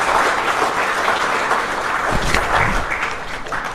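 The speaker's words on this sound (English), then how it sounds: "If we could all give them a round of applause" A meeting audience gives a sustained round of applause, with dense, even clapping lasting nearly four seconds at a steady, moderately loud level.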